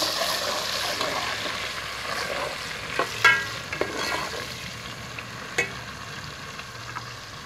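Finely chopped onions frying in hot ghee, a steady close sizzle with a cluster of sharp spoon scrapes and clinks against the pan as they are stirred, then quieter bubbling.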